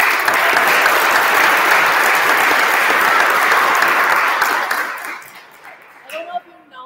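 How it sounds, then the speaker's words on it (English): Loud, sustained audience applause fills a board of education meeting room for about five seconds, then tapers off into scattered claps and a few voices. "Can we get one more round of applause for our amazing"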